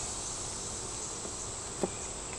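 Faint, continuous buzzing hum of honeybees inside a beehive being condensed, a soft steady drone with one brief knock near the end.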